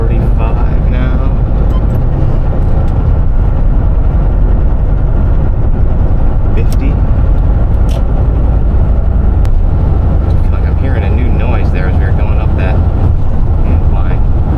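Volkswagen Vanagon Syncro Westy van with a weak, tired engine driving along a river valley road, a loud constant engine drone and road rumble heard from inside while people talk over it.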